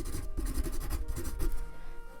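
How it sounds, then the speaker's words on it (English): Pen writing on paper at close range in a quiet, intimate setting: soft, continuous scratchy strokes with a gentle rhythmic rub, steady and near throughout. "Let's write that down"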